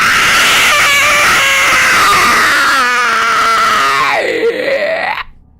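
A loud, drawn-out vocal scream imitating a horror sound effect in a haunted house game, wavering and rising before sweeping down and cutting off abruptly near the end.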